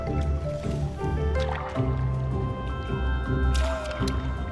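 Gentle liquid trickles and drips of water sound in the video game Ori and the Blind Forest, steady and moderately close beneath sustained tonal game music.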